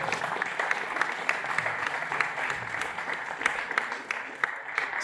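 Audience applause at a network automation developer conference: a steady patter of many hands clapping fills the whole stretch at moderate level, with no voices over it.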